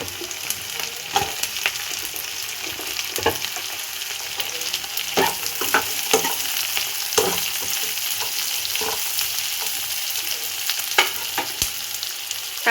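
Capsicum frying in a pan for soya chilli, a loud continuous sizzle broken by repeated scraping and stirring clicks from a utensil, close up and without speech.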